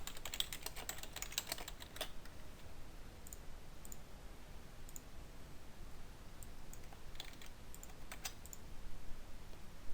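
Steady clicking keystrokes on a computer keyboard while data is entered into a form field, dense at first and then thinning to scattered taps, close and fairly quiet.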